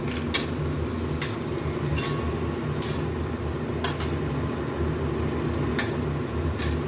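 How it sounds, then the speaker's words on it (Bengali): Small pieces of potato frying in hot oil for egg manchurian, a steady sizzle with sharp spoon clinks against the pan at irregular intervals, with no one speaking. "এইবার ওই গরম তেলের মধ্যে আলুগুলো আগে দিয়ে দেবো। আলুগুলো একটু ভাজা ভাজা হবে।"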